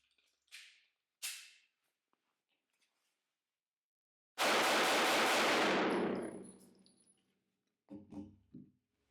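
Walther PPQ Compact 9mm pistol shots at the 5280 Armory range: two sharp, separate cracks come first, then a louder blast with a long ringing tail, and finally a couple of quicker shots near the end.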